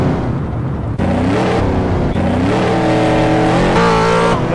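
A Monster car in GTA roars along with its engine revving and pitch climbing, tires squealing in stretches, loud and continuous with no talk over it.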